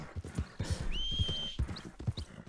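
Hooves thud at a quick gallop in the open-world western game Red Dead Redemption 2, the rhythmic clip-clop faint and steady under a brief high whistle-like tone.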